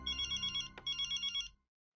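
A telephone rings during a call in a Hindi comedy scene, a warbling electronic ring in two bursts separated by a brief gap, then cutting off into silence.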